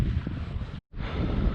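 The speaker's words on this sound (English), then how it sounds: "this wind is definitely starting to get a little snotty" Wind buffets the microphone during kayak fishing at sea off Montauk, a loud low roaring rush that cuts out for an instant mid-way and then resumes, with no talk.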